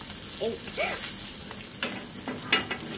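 Attu (dosa) cooks on a pan with little oil, giving a quiet close sizzle with scattered scraping clicks and a few brief voice fragments.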